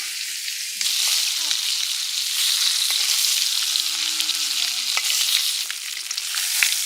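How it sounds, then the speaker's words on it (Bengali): Jiol fish frying in a pan of oil in a village kitchen, a steady close sizzle throughout with occasional stirring scrapes and clinks. "এই যে সুন্দর ভাজা হয়েছে"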